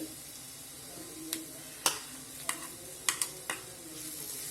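Ground masala stirred into frying onions for a Kerala-style beef fry, a soft sizzle broken by several sharp spoon scrapes and clacks against the pan at uneven intervals, close up with no voices.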